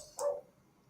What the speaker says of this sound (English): the neighbours' dogs are barking now